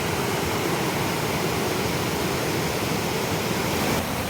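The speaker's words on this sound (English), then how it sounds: "You've got this fierce, wild, rushing water, and then just the other side of the weir, you've got calm." Fierce, wild water rushes over a river weir in a loud, continuous, unbroken roar filling the whole span, close by and with no voices.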